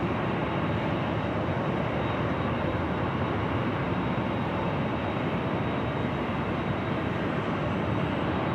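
A jet airliner, an Allegiant flight, roars on takeoff from runway 24 left at Los Angeles LAX, a broad, steady, loud engine rumble filling the whole stretch without pause or talk.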